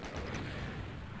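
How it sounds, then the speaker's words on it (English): A revenant missile strikes the player in Doom II, heard as a faint, muffled boom with rumbling low-end noise, blended into a steady game background. "Get hit in the face with a revenant missile"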